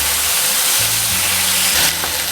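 Steak and bacon fry in a hot pan with a loud, steady sizzle and hiss, brief spits and pops breaking through the dense crackle.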